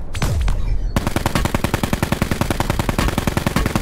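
Video game gunfire: a few loud single shots with ringing decay, then a sustained rapid automatic burst of evenly spaced cracks, close and loud.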